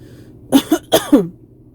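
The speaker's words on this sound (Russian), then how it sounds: "Задолбал меня этот кашель, блин," Two quick pairs of harsh coughs, close and loud, with short pauses between bursts and quiet before and after.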